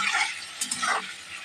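Cubes of paneer frying in a pan with salt, turmeric and Kashmiri chilli powder, a steady close sizzle with scraping stir strokes running throughout, heard alone.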